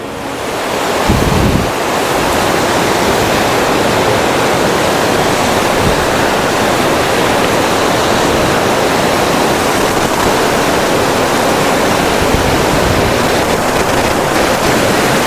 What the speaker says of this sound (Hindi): मैं आपको पानी नज़दीक से दिखाता हूँ